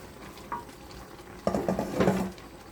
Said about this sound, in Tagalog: Tapos halu-haluin natin yung ating labong at saluyot na may isang okra.